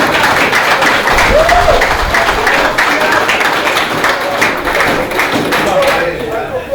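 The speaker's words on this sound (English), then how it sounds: "Give them a round of applause for Axe being here." An audience at a prison football league awards ceremony applauds, a crowd's clapping with scattered thumps running steadily under a speaker's voice.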